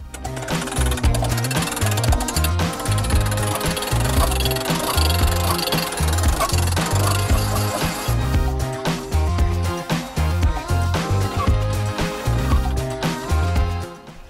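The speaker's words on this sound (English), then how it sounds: "Start the process by winding up the roof" The winding mechanism of a Jayco camper trailer roof is cranked up with a continuous rhythmic ratcheting and grinding, loud and close, keeping an even repeating pulse for the whole stretch.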